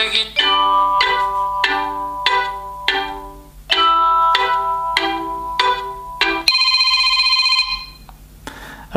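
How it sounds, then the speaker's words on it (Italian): A Google Nexus 5 smartphone plays its ringtone: a repeating pattern of bright electronic tones in quick, evenly spaced bursts, ending in a longer sustained chime, clear and close with no speech. "L'unica cosa che mi sento di contestargli è il volume dell'audio per quanto riguarda le suonerie e le notifiche."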